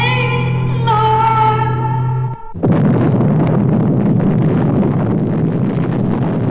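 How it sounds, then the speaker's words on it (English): A doomsday bomb explodes in a Planet of the Apes film scene, destroying the city: a steady, ominous tonal hum cuts off abruptly into a loud, sustained roar of broadband blast rumble that carries on to the end. "With this unspeakable explosion, the city once again, and for all time, is destroyed."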